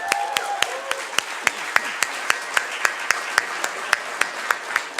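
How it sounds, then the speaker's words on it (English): Rhythmic clapping at a community gathering for Tech Dump's new St. Paul location, a small group clapping in fairly regular, distinct beats, close and clear, with a faint voice or squeak at the start. "We need to applaud them for what you've done physically in this space."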